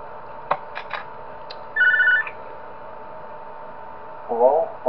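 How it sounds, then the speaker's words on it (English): In the video game Five Nights at John's, a phone rings with a few electronic tones and a short ring burst over a steady low hum, then another ring near the end, with no one talking. "Alright, we get a phone call."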